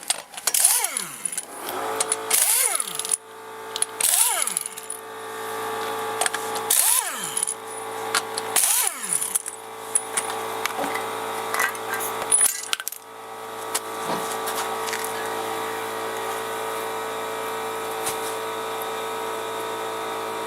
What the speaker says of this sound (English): first step is we got to get the wheel off